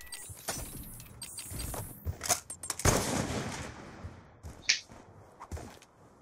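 Gunfire shooting through walls in Black Ops 2: several sharp, fairly quiet shots and mechanical clacks spaced irregularly, with a rattling burst in the middle and short decaying tails.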